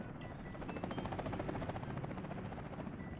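Helicopter in the video game Workers & Resources: Soviet Republic, a steady whirring rotor drone with fast rhythmic chop, continuous and fairly loud throughout with no talking.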